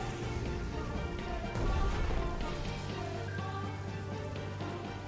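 Steady, dense rainfall hisses through a naval wartime scene in the PC strategy game Strategic Mind: The Pacific. It is a continuous wash of drops at moderate volume with a brief swell partway through.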